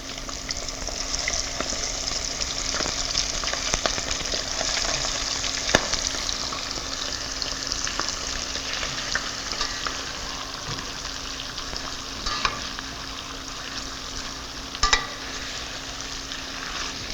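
Steady sizzling of onion frying in hot oil, a continuous crackling hiss with occasional louder pops, close up and without talk.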